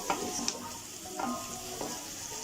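Onions fry in a little oil in a pot with a steady, close sizzle and crackle, joined by a few spoon scrapes and clinks as they are stirred.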